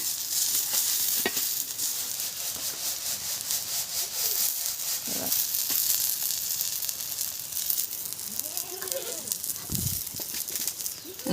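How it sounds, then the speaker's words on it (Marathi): Cluster beans fry in oil and salt on a griddle with a steady broadband sizzle throughout, broken by a few faint scrapes and soft voices in the background. "मी तव्यामध्ये तेलात मिठात थोड्या तळून घेतल्यात"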